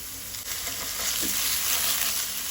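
Chopped onion and ginger-garlic paste fry in hot oil, a dense, steady crackling sizzle close by with no voices.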